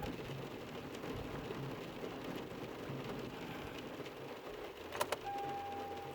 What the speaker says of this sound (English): Rain's coming down.